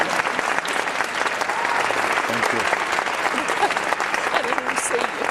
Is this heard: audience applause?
yes